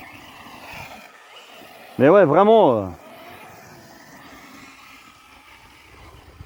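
An Arrma Mojave 6s electric RC car makes a loud, brief whining burst of about a second that rises and falls in pitch, with quiet talk before and after it.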